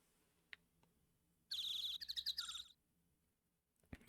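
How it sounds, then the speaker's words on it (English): Birds in Phoenix Wright: Ace Attorney chirp in a quick burst of bright, rapid tweets lasting about a second. Faint isolated clicks come before it and a short sharp tap follows, all set against near silence. "And listen to those birds go."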